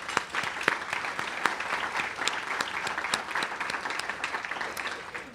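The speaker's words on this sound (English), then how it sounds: "Please join me in giving all of our breakfast sponsors a round of applause." A breakfast event audience applauds steadily for several seconds, a dense patter of many hands clapping at once, fairly far off in a large room.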